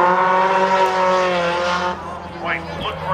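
Race cars lap Kitley Speedrome with a loud, sustained high-revving engine whine that drops off abruptly partway, followed by quieter engine noise and tire squeal, under an announcer's commentary.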